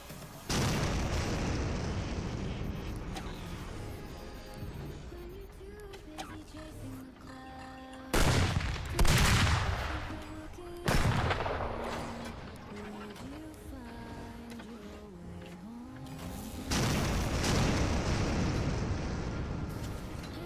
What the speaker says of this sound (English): The real big guns are here to play.